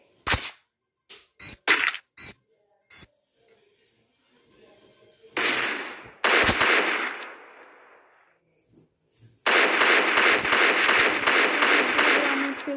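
Free Fire clash squad ranked match: a series of sharp gunshots, then a grenade explosion with a rumbling tail, followed by a sustained rapid burst of automatic gunfire, all loud with no voices.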